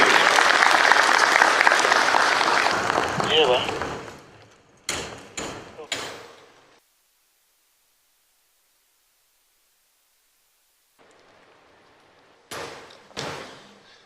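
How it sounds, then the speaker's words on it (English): Loud, dense applause fills the first few seconds and fades out, followed by a few scattered claps and bumps, a long silence, then more brief noises. "Applause as he comes to the podium."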